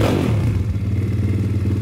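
A motorcycle engine, just after valve adjustment and carburetor cleaning, idles steadily up close, a low even rumble with a slight throttle blip at the start.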